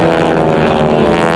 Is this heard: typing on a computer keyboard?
no